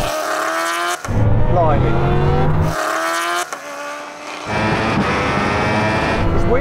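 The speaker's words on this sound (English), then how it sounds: "Now we're going to have a rolling race from 50 miles an hour in second gear" A Bugatti Chiron SS hypercar, a Kawasaki H2R and a Ducati Panigale SP2 superbike accelerate hard from a rolling start in a half-mile drag race, engines roaring loud and close with sharp gear-shift breaks and rising revs, a voice exclaiming briefly.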